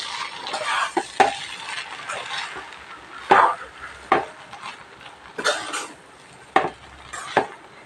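Potato rice with ghee, mint and curry leaves is stirred in a pot, with a spoon scraping in irregular strokes and sharp metallic clinks against the vessel, close by with no talk.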